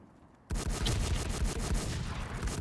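A red gun fires in a shooting video game, kicking off abruptly into a sustained, loud stream of rapid automatic shots that keeps going to the end, with no voices over it.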